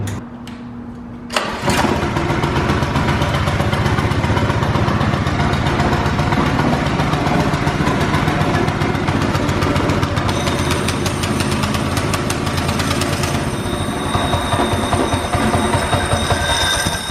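A trashed dirt bike engine fitted to a drift trike fires up and runs with no catalytic converter, a loud, raw, buzzing roar that starts abruptly after a short quiet moment and holds steady close by, with no voices over it.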